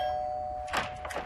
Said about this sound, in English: And doorbell.